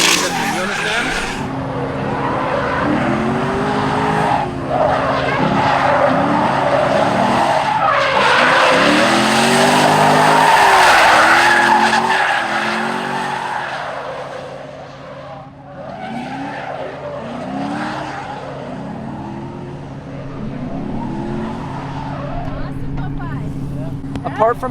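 A car drifts through practice runs for a first drift competition, its tires squealing in long skidding bursts over a roaring engine that swells and fades with each pass, with voices talking over parts of it.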